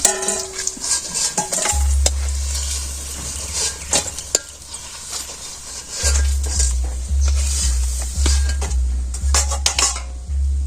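Lentil fritters (bora) sizzle in hot oil in a pan in a Bangladeshi village kitchen. Steady frying hiss runs beneath repeated metal clinks and scrapes of a utensil against the pan, with dull knocks between.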